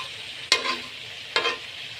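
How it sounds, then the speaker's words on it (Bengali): Duck meat and potato curry is stirred in a pot over a low village cooking flame, two distinct scraping strokes about a second apart against a soft background hiss, close and moderately loud with no voices. "ভালো করে নাড়াচাড়া করতে হবে যাতে তলে পুড়ে না যায়।"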